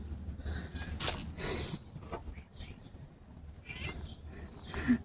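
Starling mimicking a cat's meow outdoors, a faint, short mewing call amid low background rumble and quiet rustling.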